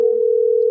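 A steady telephone dial tone hums continuously and loudly as a phone call is being placed, a single unbroken tone with no other sounds.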